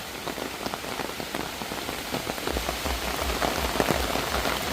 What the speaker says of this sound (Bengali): এই যে বৃষ্টি, এই বৃষ্টি শুধু গ্রামেই পাওয়া সম্ভব